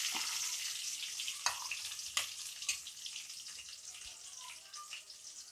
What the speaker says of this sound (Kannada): ಈರುಳ್ಳಿ ಹಾಕ್ಕೊತಾ ಇದ್ದೀನಿ.